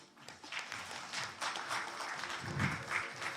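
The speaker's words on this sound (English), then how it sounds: "Round of applause again for Albin Ouschan." Audience applause at a pool match, the WPA Men's 8-Ball World Championship final, greeting Austrian player Albin Ouschan; a moderate, steady wash of clapping from a crowd lasting a few seconds, somewhat distant in the hall.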